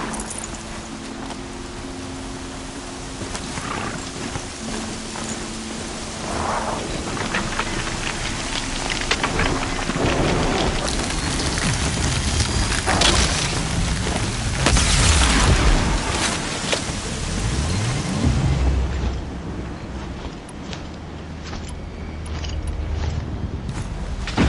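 Storm of rain and thunder in the video game Horizon Zero Dawn: a continuous wash of rain with creaks and low booming rumbles rising mid-way, loud and dense, with no talk.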